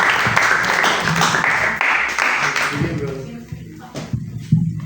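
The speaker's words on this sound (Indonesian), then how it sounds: "Beri tepuk tangan buat kalian dong" Applause from a youth group at a church retreat, a dense wash of clapping that fills most of the clip before thinning into scattered claps near the end, with voices mixed in.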